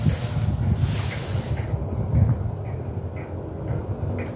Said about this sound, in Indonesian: Walaupun angin yang lumayan kencang